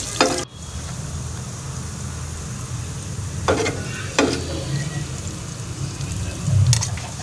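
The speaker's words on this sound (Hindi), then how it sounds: "हाफ फ्राई हो गया प्याज" Finely chopped onion sizzling and frying on a hot tawa, a steady loud sizzle with a few scraping stirs of a spatula against the metal, close up with no talk.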